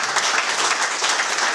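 An audience applauds a sports team of veterans after a magnificent season, a dense, steady wash of clapping filling the whole moment with no voices on top.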